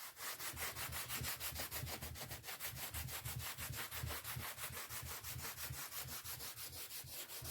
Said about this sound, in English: I'm just going to simply wipe off my Cricut mat